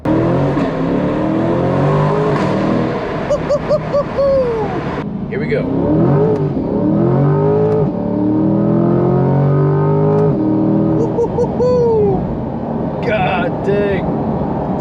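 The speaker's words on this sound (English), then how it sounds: "when you're going full throttle and you crack an upshift and it just makes this like smacking noise" A Chevrolet Corvette C8 or Camaro 1LE sports car pulls hard at full throttle, its exhaust rising in pitch through the gears with sharp cracks at the upshifts, loud and close, while someone talks excitedly over it.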